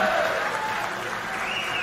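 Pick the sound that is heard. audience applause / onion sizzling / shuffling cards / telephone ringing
audience applause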